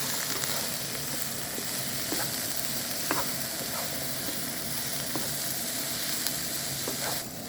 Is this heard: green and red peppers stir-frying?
yes